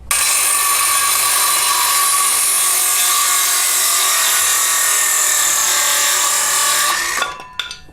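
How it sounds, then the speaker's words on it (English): A power miter saw cuts through wood trim for a flower box, a loud, steady whining rip lasting about seven seconds before the blade winds down, with no talking. "I actually have a miter saw, but if you don't, you can do it with a skill saw as well."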